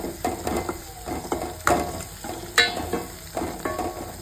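Garlic fries with turmeric in a pan, a soft sizzle broken by irregular scraping and clicking as it is stirred, close and moderately loud.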